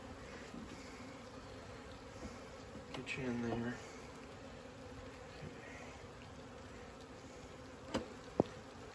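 Honeybees being shaken and coaxed into a hive during a 2020 installation, a steady close swarm hum running throughout with a brief louder burst of buzzing near the middle and a few soft knocks, under a quiet voice.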